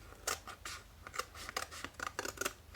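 A rapid series of sharp scissor snips, crisp and close, cutting through a small tetra fish, repeating in quick irregular bursts with brief pauses between cuts.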